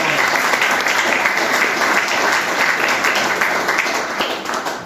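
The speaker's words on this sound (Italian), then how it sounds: "rifacciamo un altro applauso a Laura" An audience at an archaeology talk about Roman and Venetian Treviso giving Laura another round of applause, loud and close, dense steady clapping that tapers slightly toward the end.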